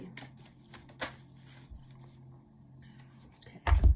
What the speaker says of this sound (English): As I was shuffling before the card came out